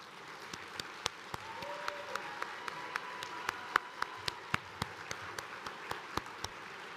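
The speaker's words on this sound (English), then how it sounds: "Let's give them a warm round of applause." An audience applauds National VOAD Board members at a State of the VOAD address, a steady wash of clapping with sharp, regular nearby claps standing out on top.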